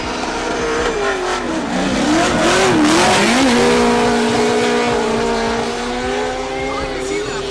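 Drift cars battling at a drift competition finals, a roughly 200 horsepower Toyota Corolla against a Nissan S13 of about 600 horsepower, engines screaming at high revs with tires squealing, loud and continuous throughout, with voices talking over it.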